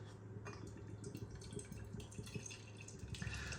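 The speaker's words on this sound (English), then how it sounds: "Right, so beer pouring out" Beer from a can of Renegade Queensbury Jack, a 6.2% New World style IPA, pours into a stemmed IPA glass: a steady close-up fizzing, splashing stream with small drips and bubbling, no voices.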